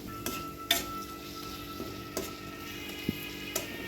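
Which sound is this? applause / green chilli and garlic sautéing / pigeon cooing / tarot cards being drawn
green chilli and garlic sautéing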